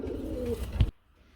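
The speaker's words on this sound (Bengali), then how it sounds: "এটা হচ্ছে হায়দ্রাবাদের নীলি কবুতর" Hyderabadi blue pigeons give a short, close coo, ending abruptly after about a second.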